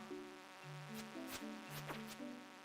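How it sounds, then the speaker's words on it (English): An insect or fly buzzing in the video game Stardew Valley, a steady close drone with wavering pitch and a few sharper whooshing passes over about three seconds, alone with no talk. "Sounds like a fly"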